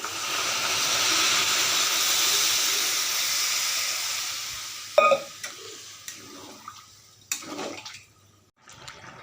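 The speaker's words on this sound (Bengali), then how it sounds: "ভালো করে কষানি হলো জল অ্যাড করে নিব।" Water poured into a pan of sizzling raw jackfruit curry in a village kitchen: a loud steady hiss and sizzle that fades, followed by scattered clinks and stirring knocks.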